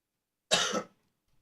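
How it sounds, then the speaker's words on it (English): A single short, sharp cough, close by, preceded and followed by silence. "I turned my head and coughed"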